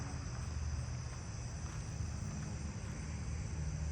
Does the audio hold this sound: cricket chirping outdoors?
yes